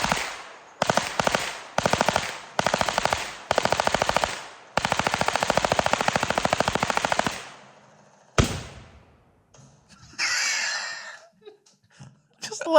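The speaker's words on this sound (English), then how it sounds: "This is a Mac 11." A MAC-11 machine gun fires in a played video, loud rapid bursts of automatic fire in several groups, then a long sustained burst, followed by quieter sounds and talk.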